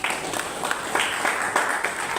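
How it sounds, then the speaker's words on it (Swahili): Scattered applause for a student association's auditor breaks out during an interview, a light, moderately close patter of clapping that rises and falls over a couple of seconds. "Tuwapigie makofi."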